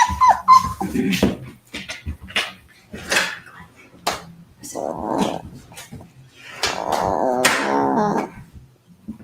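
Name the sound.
puppies whimpering and yipping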